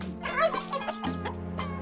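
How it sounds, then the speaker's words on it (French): A cartoon turkey clucks in a quick string of bright, bouncy calls over a steady musical tone, loud and close, with no talking. "Quand maman était petite, elle s'était prise d'affection pour une dinde toute mignonne qu'elle avait appelée Micheline."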